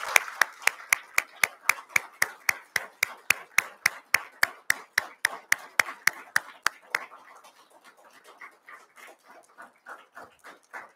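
Applause at a funeral service, a brisk run of evenly spaced loud claps, then a scattering of softer hand clapping from other mourners that fades out.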